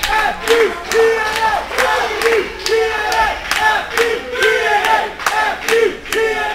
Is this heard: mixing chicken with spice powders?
no